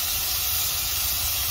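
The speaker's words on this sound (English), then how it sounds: "Getting that sizzle." Creamy bolognese sauce sizzles steadily in a pan inside a camper van, a continuous close hiss that carries on evenly without pause.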